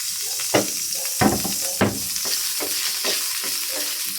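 Garlic sizzles steadily in a hot pan as the first step of a monggo dish, with a few sharp scrapes from a stirring ladle cutting through the constant frying hiss.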